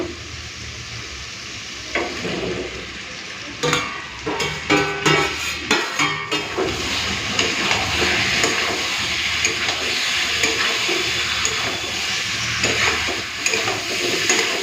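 Fried shrimp, potato and elephant yam tipped into hot oily masala in a pan set off a loud, sustained sizzle and hiss, with a burst of clattering stirring and scraping strokes early on, then steady frying.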